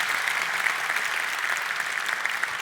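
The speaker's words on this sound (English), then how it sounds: "So please give a round of applause to the in-app marketing team." A keynote audience gives a sustained round of applause, dense and even clapping from many hands at a steady level throughout, with no talk over it.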